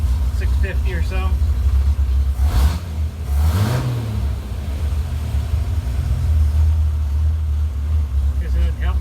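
A 1964 Mercury Comet engine idles steadily at about 650 rpm, a loud low rumble with one brief rev, while someone talks over it inside the car.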